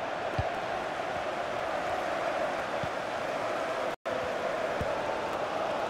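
Stadium crowd in the FIFA 22 video game, Manchester United versus Arsenal in a Champions League final, sends up a steady, dense roar of cheering that runs through with only a brief cut of silence.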